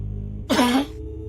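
A single harsh cough or throat-clearing burst, close and fairly loud, lasting about half a second over a low steady background hum.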